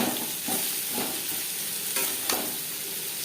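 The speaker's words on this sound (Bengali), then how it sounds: "উচ্ছের সাথে লবণ হলুদ বেশ ভালো করে মিক্স করে দেবো" Bitter gourd pieces being stirred and tossed with salt and turmeric in a pan, giving a continuous sizzling hiss with a few soft scraping strokes spread across the stretch, with no talking.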